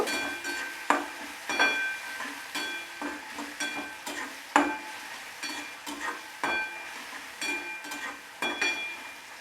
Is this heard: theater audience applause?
no